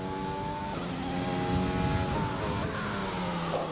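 Formula 1 car in a racing video game accelerates hard out of a chicane, its engine note climbing steadily through the gears as a loud, continuous whine that stays close and dominant, with no talking.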